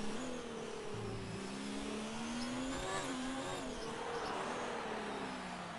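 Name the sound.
race car driving on a track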